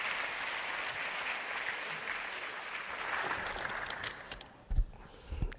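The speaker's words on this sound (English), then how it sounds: "A big round of applause for Faya Exarchou, everyone." An audience at an award event applauds as a film director is welcomed to the stage, a sustained wash of clapping that thins out near the end, followed by a few handling bumps.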